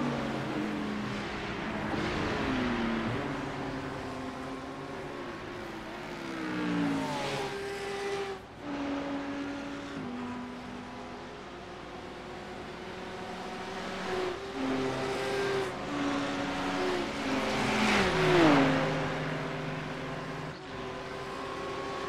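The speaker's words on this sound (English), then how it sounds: "Looks like Paulo's car might be a little slow on the straight." GT3 race cars lapping a circuit in a racing video game, several engines droning and revving together with shifting pitch, downshifts and one car passing close, a steady dense roar with no talk.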